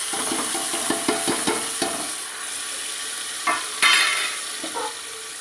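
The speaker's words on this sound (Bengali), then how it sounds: "তো চলো আমি মশলাটা কষতে থাকি" Ginger and cumin masala frying in oil in a pressure cooker, with steady sizzling under a run of close spoon scrapes and stirring knocks, then quieter frying with a few louder stirs.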